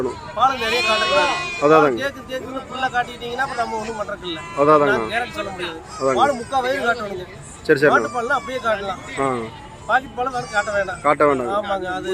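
Goat kids bleat repeatedly in quavering cries at a crowded livestock market in Kunnathur, mixed with chatter and nearby voices talking throughout.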